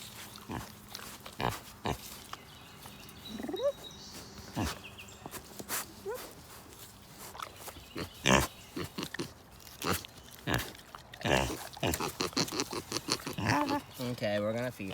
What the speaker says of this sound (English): They're mini pigs